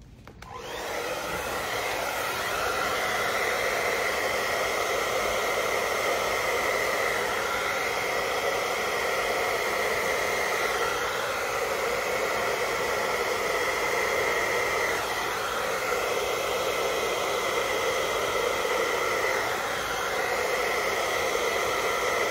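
A hair dryer blowing acrylic paint across a canvas for a fluid art bloom, a loud steady whooshing roar that switches on and runs unbroken throughout.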